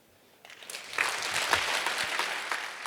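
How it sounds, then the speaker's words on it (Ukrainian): Audience at a pharmacy award ceremony breaks into applause, clapping rising quickly after a quiet start and holding dense and steady to the end. "Нескінченні просто оплески вам і захват вами."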